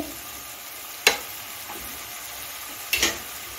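Spice masala cooking down in oil in a pan for a mixed vegetable dish, a quiet steady sizzle broken by two sharper stirring scrapes about two seconds apart.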